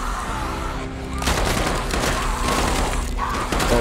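Gunfire from a zombie-fighting scene in a Walking Dead TV episode, a dense rattle of shots and booms forming one loud, continuous wall of sound with no clear gaps between bursts.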